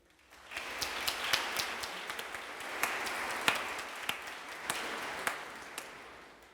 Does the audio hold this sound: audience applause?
yes